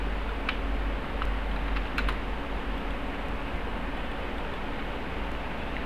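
Computer keyboard keys are typed steadily for an AutoCAD command and Enter is pressed, in a run of light, fairly close clicks over a constant background hiss.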